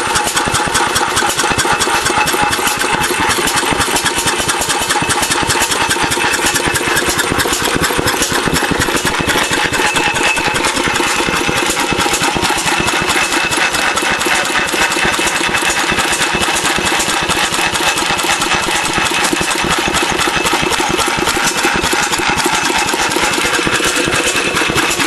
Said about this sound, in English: That's a quiet muffler, though.